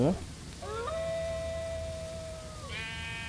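A cat-like meow rises and holds as a drawn-out tone in the Roblox game Pirate Ship Escape, with a second meow near the end, heard clearly over quiet game background.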